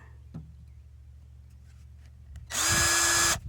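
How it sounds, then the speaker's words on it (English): A power drill whirs loudly for about a second after a short knock, boring a hole in a foil wing, then stops abruptly in a quiet room. "Might have to use a smaller drill to start."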